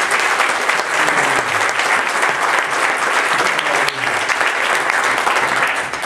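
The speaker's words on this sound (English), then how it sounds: "Give the Lord a hand clap of praise" A church congregation claps hands in praise, a loud, dense, sustained burst of applause filling the room without pause.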